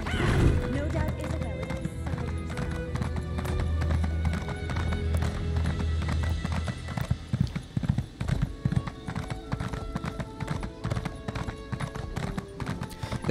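A horse gallops in The Elder Scrolls Online High Isle, its rapid hoofbeats loud and continuous, while a voice talks over the first half and the hooves then pound on alone.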